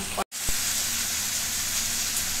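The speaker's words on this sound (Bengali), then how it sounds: "আগে দেখুন, গরম জলটা দিয়ে দিচ্ছি।" Hot water is added to prawn masala frying in a pan, giving a steady, moderately loud hiss and sizzle. After one brief dropout and a soft knock, it runs on evenly with no voices.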